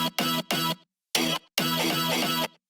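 A Vengeance house stab sample, pitched up and brightened with OTT compression and EQ, hits in five loud, bright chord bursts in a choppy rhythm with short gaps between them, alone and with no talking.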